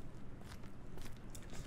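Recorded footsteps play back as a sample, soft crunchy steps with a quiet gritty texture in a short, faint run of several treads and no voices.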